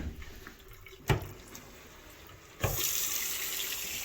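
Household faucets opened fully to drain a cabin's water lines, giving a steady broadband rush of running water with two sharp clunks as the taps are turned, and no talk.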